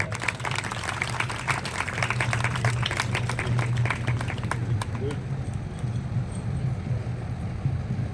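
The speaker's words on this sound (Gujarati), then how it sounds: "આપણે તાળીઓથી વધાવીશું." Applause from a school audience at a district Kala Mahakumbh arts festival at Model Day School, Uttampura, welcoming the principal: dense, steady clapping for about five seconds that thins out, with a murmur of voices underneath.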